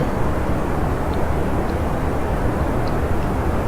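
Steady, dense roar of rocket engines firing in Kerbal Space Program, a constant broadband rumble holding at even loudness throughout with no voices.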